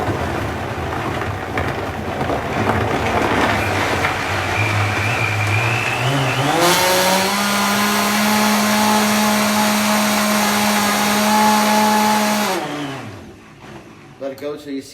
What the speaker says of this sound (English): Start low on your blender always.